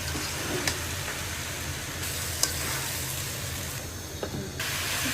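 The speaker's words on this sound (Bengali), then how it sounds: "তেলকে সামান্য জিরা কষানো হলে পরে কপিগুলো দিয়ে দিন" Cauliflower pieces frying in oil with cumin, a steady broadband sizzle and hiss with a few sharp pops and crackles, close and continuous with no talking.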